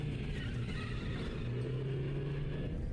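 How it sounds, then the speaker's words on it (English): Car driving down the Roxy Raceway in FNAF Security Breach, a low steady engine rumble with a faint rising hum, moderately quiet and continuous with no talk. "Gregory drives a car all the way down the Roxy Raceway"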